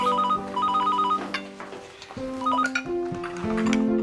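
A telephone rings in a Hindi family drama scene with a repeating electronic trill, then a shifting run of tones, heard indoors at moderate loudness without speech over it.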